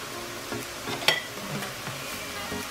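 Steady frying sizzle of Polish chrust (funnel cake) batter spread across a pan, with soft crackles and a single brighter pop midway; no talking.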